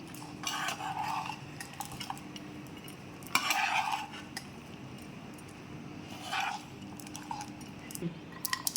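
Cashews being stirred into tamarind pulihora: soft scraping and clinks of a spoon against a metal vessel in a few short bursts over a quiet background.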